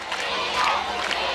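A large crowd cheers and applauds for Fidel Castro at a rally in Cuba, a dense continuous roar of voices and clapping with no pauses.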